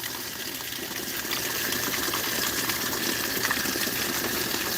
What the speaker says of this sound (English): Gotta fill up the bucket with some water to put this fire out.